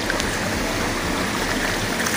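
A mountain stream near Naag Daah in Nepal rushes steadily, a close, constant broadband water roar with no talking.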